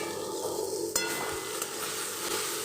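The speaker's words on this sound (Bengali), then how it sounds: "মশলাটা শুকনো মশলা, সেজন্য একটু জল দিয়ে ভালো করে একটু নেড়ে নেবো।" Vegetables and dry spices stirred in a frying pan with a little water added, a continuous sizzle with a sharp utensil clink and a few scraping knocks.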